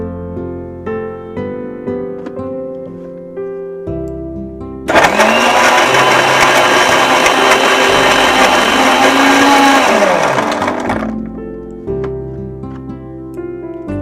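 An electric blender whirs loudly and steadily for about five seconds, blending a chikoo milkshake with ice, starting abruptly and then winding down, with soft background music before and after.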